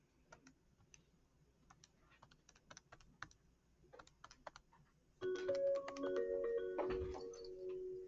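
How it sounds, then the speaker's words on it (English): Typing on a computer keyboard, a quiet run of irregular close key clicks, followed by a louder stretch of mixed electronic tones and clatter near the end. "So I've typed this in."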